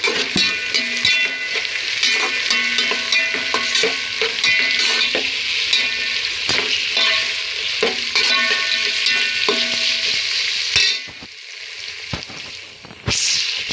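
Onions frying in a pan for chicken curry, a loud, continuous close sizzle with repeated scraping strokes of a stirring spoon, briefly dropping away near the end before resuming.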